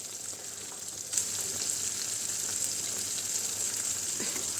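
Finely chopped tomatoes, two small ones, sizzle in a hot pan while being stirred. The frying hiss is steady and close, and a clatter of stirring comes in around the one-second mark.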